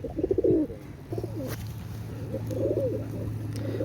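A Teddy pigeon coos in soft repeated phrases, low throaty calls rising and falling close by against a faint steady hum.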